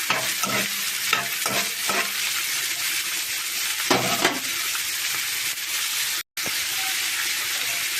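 Onions sizzle in hot oil with cumin in a pan while a spoon stirs them, giving a steady loud frying hiss broken by repeated scraping strokes.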